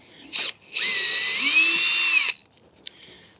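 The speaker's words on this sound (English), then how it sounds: "cinch on it, and then hit reverse on the drill" A power drill whirs in reverse to back out a deck screw: a short burst, then a sustained whine that shifts pitch as it bites, followed by a faint tick and quiet.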